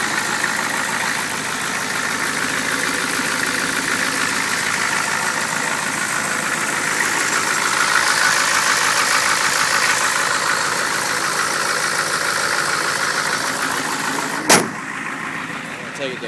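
A Ford F250 with a 6.9 IDI diesel and a 2.5-inch straight pipe exhaust idles nearby, a steady rough clatter and drone holding even throughout, with one brief sharp knock near the end.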